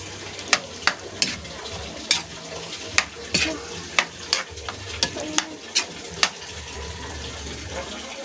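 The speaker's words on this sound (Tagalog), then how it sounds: "Ilagay na natin yung pangalawang gata guys." A vegetable dish cooking in coconut milk is stirred in a pan, with a low simmering bubble under repeated scraping and clinking strokes of the spoon at an irregular pace, close by.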